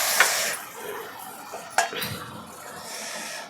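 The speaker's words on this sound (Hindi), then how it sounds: "अब हमने इसमें अदरक लहसुन का जो पेस्ट बनाया था वो भी डाल दिया। इसको भी अच्छी तरह से इसमें भून लेंगे।" Ginger-garlic paste frying in oil with Kashmiri chilli and spices for soya chaap gravy, a steady soft sizzle with a few sharp clinks of a spoon against the pot, close and continuous.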